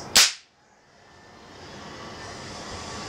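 A single sharp, loud crack comes from a Denix 1873 Colt .45 Peacemaker replica cap gun, then it decays quickly into faint room hiss.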